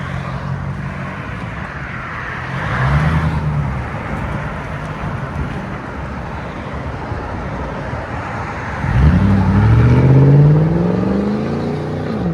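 A straight-piped 2020 Lexus GX 460 with a 4.6L V8 drones loudly and steadily, then rises into two swelling revs, one brief near the start and a stronger one late, with no voices.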